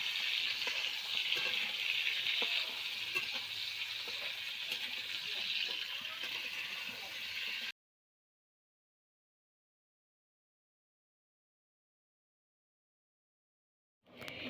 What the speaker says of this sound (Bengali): শুরুতে কড়াইতে তেল গরম হলে পটলগুলো অল্প নুন দিয়ে লালচে করে ভেজে তুলে নেব